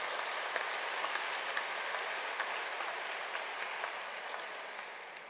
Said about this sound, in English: So give a big applause to the Rotary host counselors.